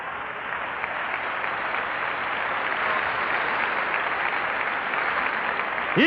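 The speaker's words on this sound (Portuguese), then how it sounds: "Aplaudindo, né, irmã?" A church congregation claps steadily for about six seconds, a dense, even wash of applause from many hands with no voices over it.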